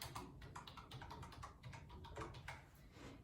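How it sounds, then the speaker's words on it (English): Rapid keystrokes on a computer keyboard as a search query is entered, a steady run of light clicks close to the microphone with no voices. "we're going to type in, somebody's looking for Steven Spielberg"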